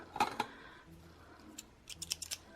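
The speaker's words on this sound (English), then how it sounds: "I'm just gonna cut these," A few quick scissor snips through paper: a close pair of crisp cuts, then after a pause a rapid cluster of sharper snips.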